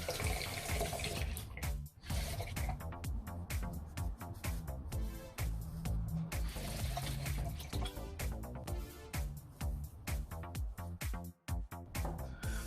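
Tap water runs steadily into a sink as a Gillette Mach3 Turbo razor full of shaved hair is rinsed under it, with splashing changes as the blade moves through the stream, close and continuous.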